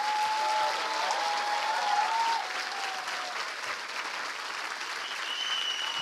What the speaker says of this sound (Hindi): आइए प्रभु के लिए एक अच्छी ताली बजाएं।